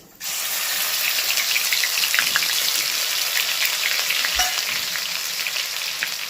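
Crushed ginger and onion fry steadily in a pan, a continuous close, moderately loud sizzle with crackling pops that runs unbroken from start to finish.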